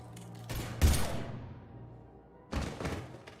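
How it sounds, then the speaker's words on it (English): Gunfire in the Mass Effect video game: two separate bursts of heavy, thudding shots about two seconds apart, each dying away into a quiet pause, fairly close and without talk. "Now open fire!"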